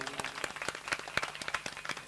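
An audience at a Shrimad Bhagwat Katha gathering claps, a quick run of many overlapping hand claps, moderately loud and close, with no talking.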